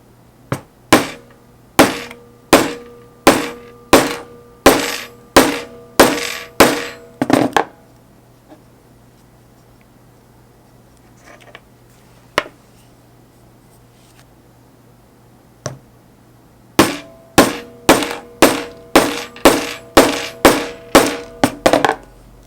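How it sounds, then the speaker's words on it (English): A grommet-set hole punch is hammered through a leather guitar strap in two fast runs of sharp, evenly spaced strikes, each ringing briefly, with a quiet gap between the runs that holds only a couple of isolated taps. "To make the holes for the strap buttons, I used a hole punch from a grommet set that I had laying around."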